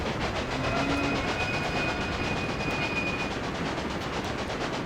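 A steady train rumble from the video game Railway Empire, a locomotive running with continuous rolling noise, faint rhythmic clatter and a thin whistle-like tone, heard alone.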